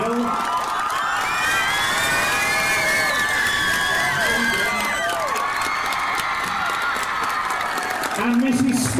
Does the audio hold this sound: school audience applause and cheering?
yes